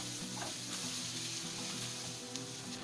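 Chopped large onion sautéing with garlic and calabresa sausage in a pan for a chayote lasagna sauce, a steady, even sizzle without pauses and no voices.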